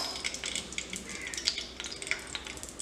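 Cumin seeds sizzling in hot refined cooking oil in a pan, a crackling, popping fry with scattered sharp pops and light stirring clinks, close and moderately quiet, with no voices.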